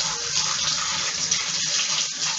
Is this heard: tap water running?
yes